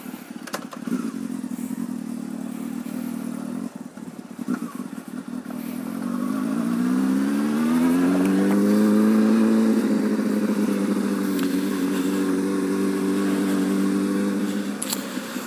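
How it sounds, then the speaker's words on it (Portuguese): A motorcycle engine rumbles close by, then revs up as it accelerates and settles back, with traffic noise around it. "Vamos andar de moto."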